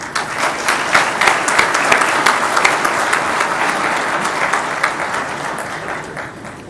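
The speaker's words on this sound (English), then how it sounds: "I would request the House for a round of applause for the panelists, please" Audience in a conference hall applauding the panelists after a military strategy session on future warfare, steady loud clapping that swells and then slowly tapers off.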